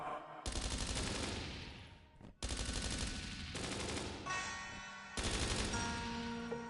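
Rapid bursts of automatic gunfire during an ambush in a PlayStation VR2 game, loud and continuous, broken by a couple of brief gaps before resuming.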